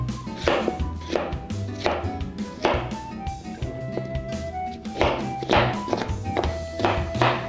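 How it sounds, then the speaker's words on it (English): Repeated knife chops through an onion on a cutting board, sharp taps in an uneven steady rhythm, close up, with a faint tonal background underneath. "This is just a coarse chop on the onion."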